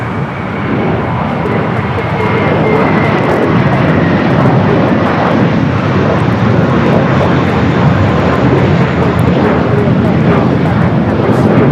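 China Airlines Boeing 777 freighter, cargo flight bound for Taipei, at Los Angeles airport: a steady, loud jet engine roar that holds even throughout, broad and continuous with no breaks.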